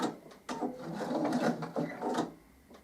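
A sewing machine runs stitches in reverse on a fabric pen-holder bookmark, a few short mechanical bursts of clattering needle action with pauses between, close and fairly quiet.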